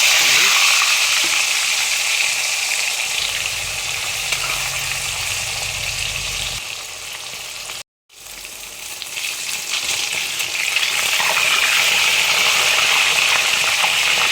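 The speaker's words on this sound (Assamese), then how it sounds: "এইফালে কেৰাহী গৰম হ'ল, মাছটো ফ্ৰাই কৰি লওঁ।" Fish frying in hot oil in a kadai gives a loud, continuous sizzle and crackle, briefly cut off mid-way before the frying resumes just as strongly, with no talk.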